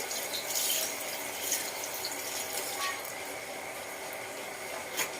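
Tap water runs steadily into a sink while something dirty is washed before dinner, a continuous close hiss with small splashes and no voices.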